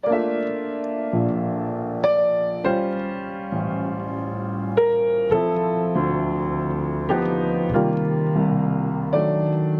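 Jazz chords on piano ring out one after another, with a deep bass note landing just after each chord, unhurried and without any voices.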